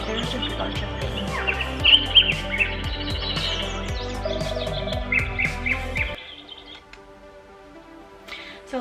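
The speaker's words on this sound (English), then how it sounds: "this one, which is just birds and nature." Birdsong from a nature sleep recording, with many chirps and tweets overlapping in a dense, lively chorus that continues until it thins abruptly to a few scattered calls.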